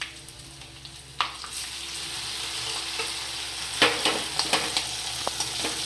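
Potatoes for poha hit hot oil in a frying pan with green chillies and sugar, giving a steady sizzle and fry with sharp clinks and scrapes as they are stirred.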